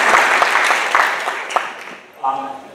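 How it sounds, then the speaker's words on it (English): An audience at a Montgomery County procurement event applauds, a brisk wash of clapping with a few sharp individual claps, fading after about two seconds as a voice begins speaking. "let's give a round of applause for helping put this together"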